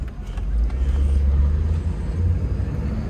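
A 2001 Chevrolet Camaro Z28 on a test drive produces a deep, steady engine rumble with road noise from inside the cabin, loud and continuous.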